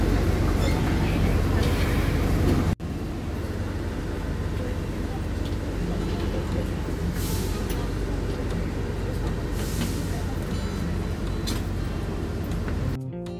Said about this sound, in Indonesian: keretanya udah mulai jalan ya guys